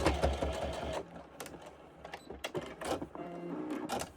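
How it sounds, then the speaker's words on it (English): A sewing machine stitches the edges of a fabric Easter egg just inside a quarter inch, whirring in quick close bursts with short pauses between runs. "just stitching those down, and I'm going just inside 1/4 inch"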